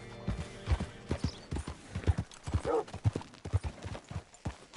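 Regular clip-clop of horse hooves in Red Dead Redemption 2, close and steady, with a voice speaking briefly over the hoofbeats.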